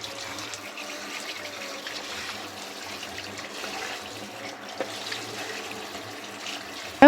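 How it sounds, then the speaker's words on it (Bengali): Raw meat being rinsed under a running kitchen tap for a festive home meal, a steady close stream of water splashing and trickling into a sink with no talk. "আমি মাংসটা ভালো করে পরিষ্কার করে ধুয়ে নিচ্ছি"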